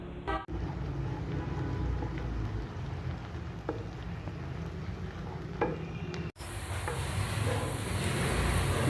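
Finely sliced onion fries in oil in a frying pan with a steady, close, dense sizzle and occasional spoon knocks, continuing without talk.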